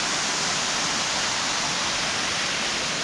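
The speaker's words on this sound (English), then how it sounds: "I was able to hear the water. I found where it was falling down here." Loud, constant rushing roar of a waterfall in Flume Gorge, New Hampshire, dense and unbroken, with no voices.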